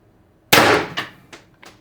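One sharp, loud crack from an X-68 PCP air gun firing a shot, followed by a few fading echoes or rattles.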